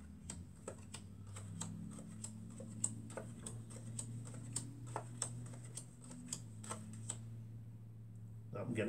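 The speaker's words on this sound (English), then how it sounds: "Now I'm going to deal the cards one at a time in three piles, one at a time." Playing cards dealt one at a time into three piles, making a steady series of crisp close ticks and slaps, with someone talking quietly underneath.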